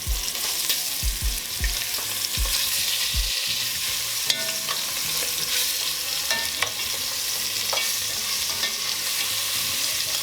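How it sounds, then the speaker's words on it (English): Short ribs sear in a hot pan with a steady, loud sizzle that runs the full length, joined early on by a few low thumps and occasional clicks of handling. "We're gonna let them sear on each side for about maybe 2 to 3 minutes"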